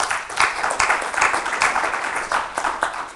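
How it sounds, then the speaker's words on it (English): An audience in a class or meeting room gives a short burst of applause. Several people clap at once, a dense, close patter of hand claps lasting a few seconds. "How about a round of applause for Cam?"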